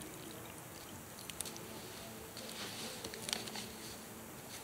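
Thick tomato juice concentrate pouring steadily into a Dutch oven over a campfire, a continuous wet gurgling stream with a few splashy drips, fairly close.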